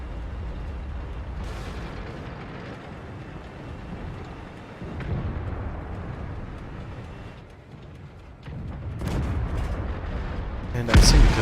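Tank cannon fire in the World of Tanks video game, with a Leopard PTA in battle: heavy booming shots and rumbling blasts over a continuous low engine drone, with a sharp loud report near the end.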